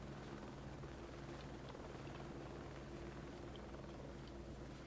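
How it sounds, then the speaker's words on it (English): A helicopter circling somewhere out of sight in the zombie survival game Project Zomboid, a faint, steady low rotor drone holding evenly throughout with no talk over it. "Can I do anything about a helicopter? It's flying around so much."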